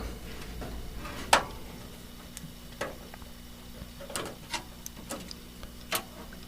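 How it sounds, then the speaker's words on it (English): A screw is unscrewed from a graphics card bracket in a PC case, heard as faint, scattered metallic ticks and small clicks over a quiet background, with one sharper click near the start. "you'll see that you have a screw right here. Now you want to unscrew that."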